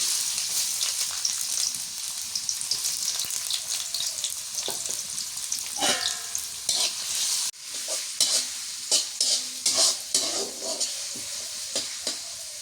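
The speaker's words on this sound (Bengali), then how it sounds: "তেল দিয়ে দিই। পেঁয়াজ কুচি দিই।" Chopped onions sizzle in hot oil in a pan for a mutton curry, with loud close scraping and stirring strokes breaking through the steady frying hiss.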